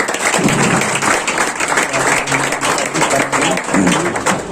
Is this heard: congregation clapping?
yes